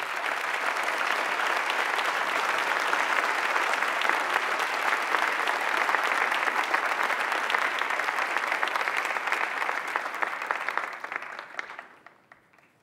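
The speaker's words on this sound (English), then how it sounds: "Please join me in applauding this remarkable group of people." Sustained applause fills a large plenary hall at the Clinton Global Initiative annual meeting, a loud, dense roar of many clapping hands holding steady for about ten seconds before tapering off quickly at the end.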